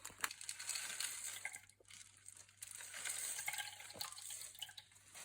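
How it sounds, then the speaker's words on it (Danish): Water trickling into a bowl of pizza dough ingredients of flour, salt and yeast: a faint, continuous splashy stream with small drips and rustles, fairly quiet and without speech. "Så skal jeg bare lidt vand i."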